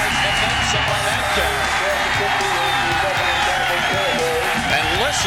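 A football stadium crowd roars and cheers loudly and continuously behind an excited commentator talking over the noise.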